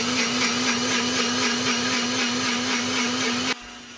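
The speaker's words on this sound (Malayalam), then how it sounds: "അപ്പോഴേക്കും അരി അരക്കാം" A mixer grinder whirs loudly while grinding rice, a steady motor drone with a throbbing pulse that cuts off abruptly near the end, leaving a faint residual hum.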